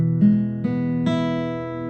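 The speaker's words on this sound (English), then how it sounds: "the idea is to go down the strings" Guitar chord with its strings picked one at a time, three notes ringing in turn and sustaining together, clean, close and moderately soft with no voice.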